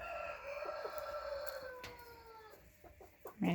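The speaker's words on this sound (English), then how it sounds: "Many chickens, all of which have too many roosters" Chickens and several roosters on a farm, close by, with clucking and a drawn-out crow rising over the flock, then scattered short clucks and a louder burst at the end.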